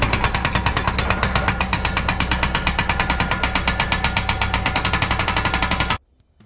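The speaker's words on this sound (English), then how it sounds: "So we went ahead and rented one of these hammers for my Bobcat T66." A hydraulic hammer on a Bobcat T66 skid steer pounds a boulder in a loud, rapid, steady stream of impacts for about six seconds, then cuts off abruptly.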